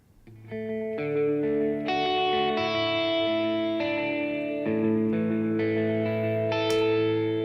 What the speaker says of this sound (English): you can hear it's giving space in between when the sound starts and the reverb starts